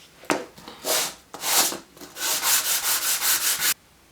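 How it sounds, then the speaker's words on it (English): Sandpaper laid flat on a piece of glass is rubbed back and forth, giving about nine rhythmic, raspy sanding strokes that quicken toward the end, close and clear with no voices. "Perfectly flat sanding surface."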